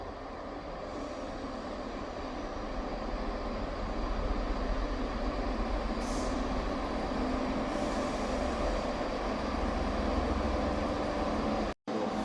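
A three-carriage Scotrail Class 170 diesel unit, 170409, pulls away from Edinburgh Gateway station, a steady rumble of engine and wheels rising slightly as it departs, continuous and close, with brief higher swishes partway through.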